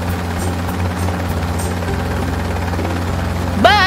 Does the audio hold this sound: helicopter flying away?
yes